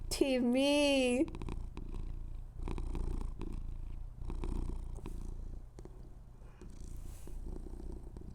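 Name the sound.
cat purring close to microphone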